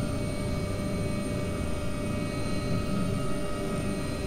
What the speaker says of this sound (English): Sounds like a fucking real helicopter, dude, doesn't it? Sounds like a beast.